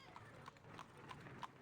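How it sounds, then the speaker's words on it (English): Horses clip-clop in the fantasy video game Sorcery!, their hooves landing in an even rhythm of about five crisp, faint knocks over a soft background bed. "You guys can hear the horses right now,"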